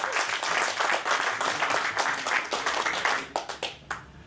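Loud, dense applause fills a hall at the 49th annual convention of the All India Small and Medium Newspapers Federation, sustained throughout before breaking into a few separate fading claps at the end.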